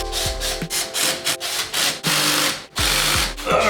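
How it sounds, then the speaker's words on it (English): Lug nuts being tightened on a Dodge Viper wheel, heard as a loud, close series of rhythmic ratcheting rubs and clicks in short bursts, with no talking. "But I'm just tightening up the lugs now."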